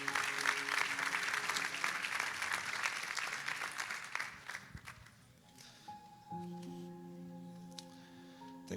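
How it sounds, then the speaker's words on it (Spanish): A church congregation applauds for several seconds, a dense close clapping that fades out around the middle, followed by quieter room sound with a sustained musical tone. "Damos ese aplauso al Señor."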